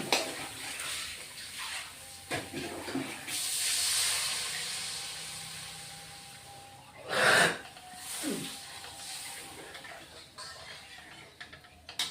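Water poured into sizzling fried masala for a Bengali egg curry sets off a loud steamy hiss that swells, fades, then flares again in one sharp burst before settling into a low simmer.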